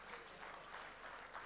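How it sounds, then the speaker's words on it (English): Applause at a statewide Aboriginal land council conference rises for a federal minister, a steady wash of clapping from a large audience that stays fairly faint and even throughout, with no voices standing out. "Can we give another big round of applause for the Minister for NSWALC,"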